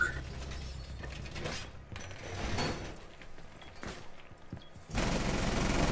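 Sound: shotgun gunfire in a video game

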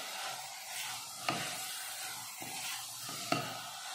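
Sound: stirring and frying bottle gourd with dal and spices

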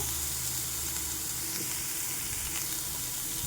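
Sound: vegetable manchurian frying and sizzling in pan while being turned

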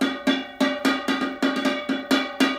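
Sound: small tin can tapped with a spoon

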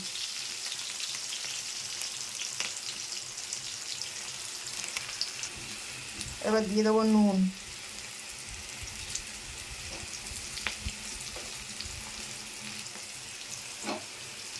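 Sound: vegetables frying in a pan

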